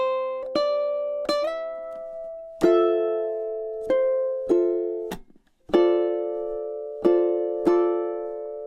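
Ukulele strums measures 20 and 21 of a chorus: a run of sharp, bright chord strums with thumb taps in an uneven rhythm, each ringing briefly, close and clear with no talking.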